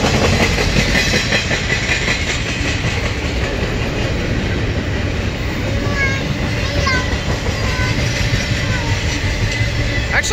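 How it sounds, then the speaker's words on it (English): A Norfolk Southern freight train passes near Jac Cate Road in Ooltewah, Tennessee, switching tracks, with a loud, continuous rumble and clickety-clack of rail cars and faint squealing wheels, alongside speech. "I think it may be switching tracks down there"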